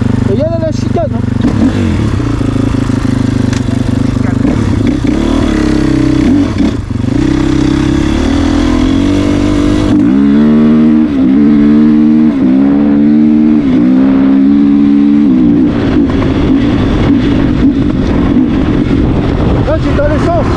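A 450 motocross bike engine runs loud and steady throughout, its pitch climbing and falling in revs, with voices talking over it.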